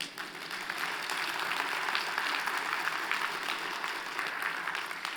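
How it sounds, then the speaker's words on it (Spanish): Church congregation claps together in sustained, fairly loud applause for a few seconds after a sermon moment, with no voices over it. "Un aplauso para Lucas."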